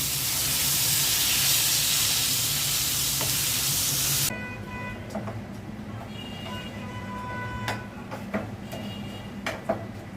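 Fried eggplant with onion and garlic is broken up in a pan, with a loud sizzle for several seconds that then drops to a quieter hiss with scattered scraping clicks from the utensil.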